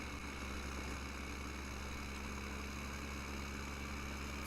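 A tractor engine idles in Farming Simulator 15: a faint, steady low drone with no change in pitch, running on its own.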